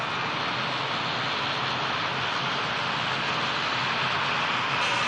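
A Boeing 787-9 Dreamliner being pushed back at Manchester Airport, a steady broadband jet roar with engine whine holding constant and loud throughout, with no voices.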